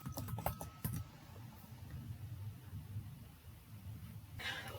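A short burst of quick, close keystrokes on a computer keyboard while typing a web address, a handful of crisp clicks in the first second, then a quiet room with faint background hiss.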